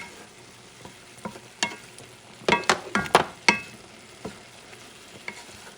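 Half an onion frying in a pan while being stirred for shepherd's pie, a faint sizzle broken by a quick cluster of sharp utensil scrapes and clinks against the pan, then quieter stirring.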